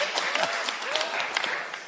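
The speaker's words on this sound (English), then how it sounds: "I think we should give Dennis a round of applause" Lecture-hall audience at a medical grand rounds session gives a short burst of clapping, individual claps audible in a fairly thin, uneven patter.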